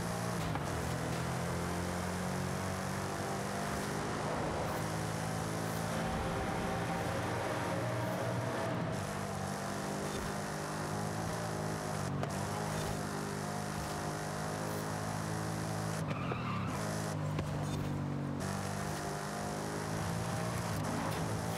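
A rear-wheel-drive Ford Mustang in the racing game Forza Horizon 5 drones along at a steady high engine pitch that rises and shifts, with brief tyre-skid breaks and gear changes, continuous and loud without talk.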